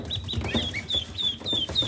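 Ducklings and two geese being introduced and freaking out, giving repeated high-pitched peeps and rapid clucking calls, close and fairly soft, with no talk.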